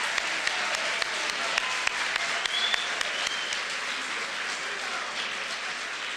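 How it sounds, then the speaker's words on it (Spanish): At a university celebration, an audience applauds warmly, a broad, even wash of many hands clapping with a few sharper individual claps near the start, holding steady to the end. "Démosles desde ya todavía un fuerte aplauso para todos"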